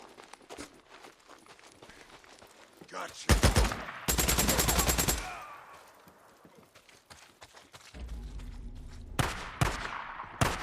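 Bursts of light machine gun fire in the Days Gone video game, a short burst then a dense, loud rapid rattle lasting about a second, with further sharp shots later among clattering footsteps and movement.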